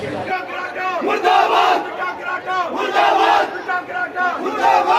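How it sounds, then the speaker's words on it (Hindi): A crowd in a Jammu mall chanting slogans against Bitta Karate in loud rhythmic unison, voices rising and falling in repeated shouted phrases, close and continuous. "इनके मुंह पे बिट्टा कराटे मुर्दाबाद के नारे आ रहे हैं"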